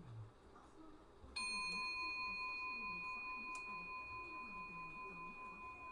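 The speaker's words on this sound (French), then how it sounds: "Cloche en airain, c'est un son qui dure." A bronze bell on a fusee clock strikes once and rings on with a long, sustained metallic tone that barely decays, over faint background murmur.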